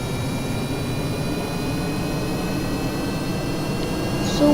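Turbofan jet engines on a big aircraft in Kerbal Space Program roar in a steady, loud, unbroken drone as it launches, with no talk.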